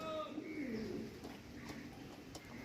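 Several pigeons coo softly in a loft while rain falls, their low rolling calls faint behind someone talking close by.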